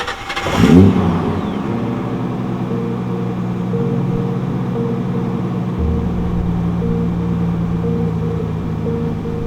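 A Nissan Patrol fitted with a non-turbo RB25DE engine taken from an R34 Skyline fires up close by with a loud burst, then settles into a steady, rumbling idle that shifts tone slightly partway through.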